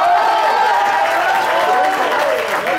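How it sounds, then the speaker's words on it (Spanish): An audience at an acoustic concert in an outdoor forum applauds Rolando, with dense, steady clapping that carries on loudly for the whole stretch without letting up. "un aplauso muy fuerte para Rolando"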